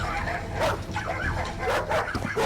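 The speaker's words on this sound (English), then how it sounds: "with the dogs barking wildly above" Several dogs bark wildly in a junkyard, a busy cluster of yips and whimpering barks repeating over the whole stretch, fairly close and loud with no talk.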